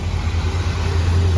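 A 1960 Cadillac two-door hardtop runs with its engine idling, a loud, steady low rumble throughout with a slight rise near the end.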